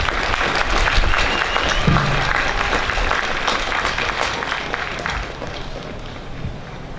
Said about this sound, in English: I want to give you all another round of applause